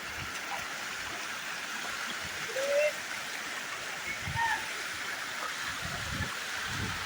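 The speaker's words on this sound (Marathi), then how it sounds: "बघा धबधबा" A steady rush of falling water from a waterfall in Malad, Mumbai fills the background, with a few faint bird chirps and low shuffling noises nearby.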